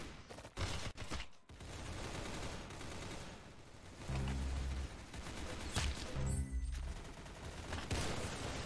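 Rapid gunfire in a shooter video game, with bursts of automatic shots and sharp single blasts spread across the clip, fairly quiet overall and without any talk.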